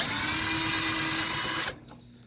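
A power nut driver spins steadily on the ground wire nut of a clothes dryer during an electrical cord replacement, a close, continuous whir that stops abruptly near the end.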